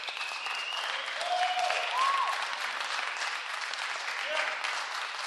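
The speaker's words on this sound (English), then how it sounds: "Please hold your applause." An audience at a Los Angeles city council meeting bursts into sustained applause, with dense clapping and a few whoops or shouts rising over it, heard from across the chamber.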